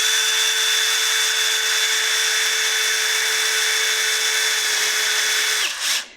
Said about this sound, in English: I'm just going to go ahead and screw it in